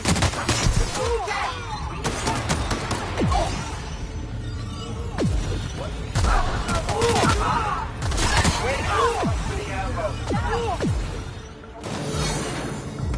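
Rapid, overlapping gunfire from the video game The Outer Worlds, with dense bursts of shots and crashing impacts throughout, and voices calling out now and then over the fighting.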